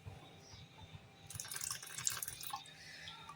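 Water is poured into moong dal batter for chilla, a short splashy trickle that swells in the middle of the clip and then fades, fairly quiet and close, with no talk.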